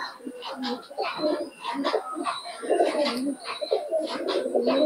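Teddy pigeons coo nearby in soft, throaty, repeated calls that overlap one another in a steady murmur.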